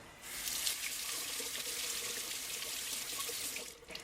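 Tap water runs steadily into a sink over fresh spring onions being rinsed, a continuous close splashing hiss lasting several seconds before it cuts off near the end.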